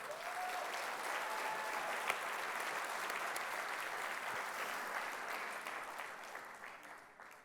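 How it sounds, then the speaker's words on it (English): A gala audience breaks into a sustained round of applause, with dense, even clapping filling a large room that fades gradually toward the end. "Let's give them a huge round of applause."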